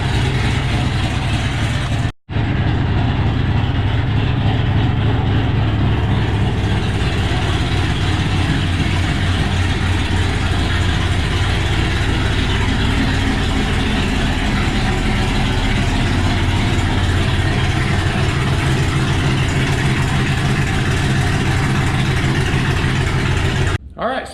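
Ford Shelby GT500 engine idling on the move around the block with a choppy, uneven lope, a loud, close, continuous low rumble that fills the whole stretch after a brief dropout near the start.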